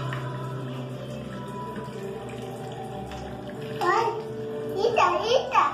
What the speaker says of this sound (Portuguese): Tem que lavar a mão, né, pai?